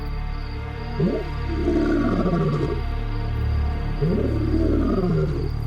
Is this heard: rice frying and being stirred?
no